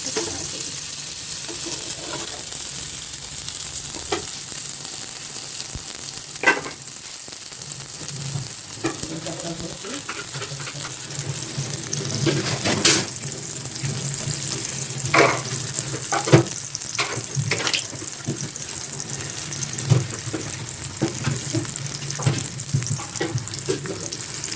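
Stuffed bitter gourds fry in hot oil with a constant sizzle, while a utensil gently stirs and nudges them now and then, producing soft scraping knocks over the steady crackle.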